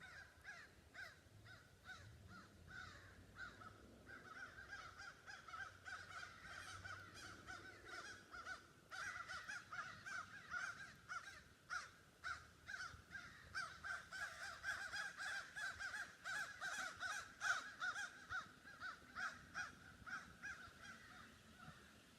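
A crow caws repeatedly in a rapid, steady series outdoors, the calls growing louder and denser toward the end over faint background noise.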